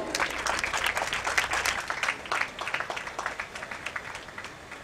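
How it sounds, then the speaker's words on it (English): Applause from an audience welcoming a guest, an MLA, at a dental walkathon event; steady, fairly dense clapping that fades a little toward the end, with no speech over it. "Kindly give sir a huge round of applause"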